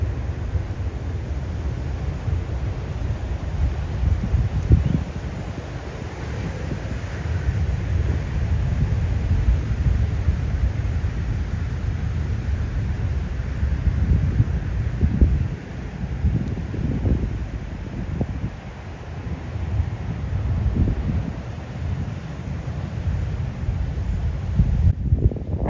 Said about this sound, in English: Gets pretty windy out here, so hold on to your hat.